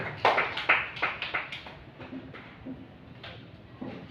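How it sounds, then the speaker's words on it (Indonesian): Schoolchildren clap their hands in a classroom, a burst of loud irregular claps at first that thins into scattered, fainter claps. "Anak-anak tepuk tangan semuanya."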